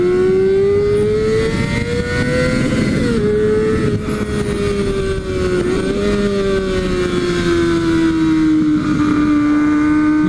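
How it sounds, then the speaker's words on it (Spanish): A Kawasaki Ninja ZX6R sport motorcycle being ridden, its engine a loud steady high-pitched whine rising and falling slightly through gear changes and curves, heard close alone with wind. "Definitivamente ya está muy bien hecha esta moto respecto a la 2008"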